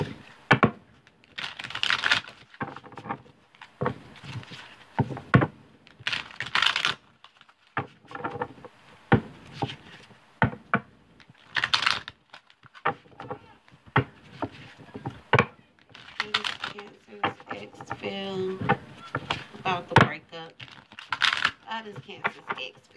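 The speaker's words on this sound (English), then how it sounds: "One more shuffle." A deck of tarot cards is shuffled by hand in repeated bursts of crisp riffling and tapping, close and fairly loud, with brief pauses between shuffles and a voice speaking in places.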